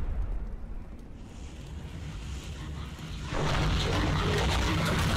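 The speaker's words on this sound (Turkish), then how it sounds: "Ha, patladı." An explosion in a Skibidi Toilet animation erupts abruptly after a quieter rumbling stretch, turning into a loud, broad roar that holds steady to the end.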